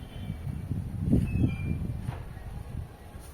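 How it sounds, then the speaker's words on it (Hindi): A cool wind blows outdoors beside a street, heard as low rumbling gusts buffeting close to the microphone and swelling midway before easing off. "आप पीछे हवा की आवाज़ सुन सकते हो"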